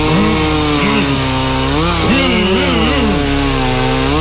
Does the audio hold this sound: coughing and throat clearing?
no